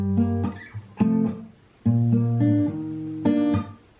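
Guitar playing a variation of a song's riff, short strummed chord stabs in a choppy stop-start rhythm, close and clear with no talking.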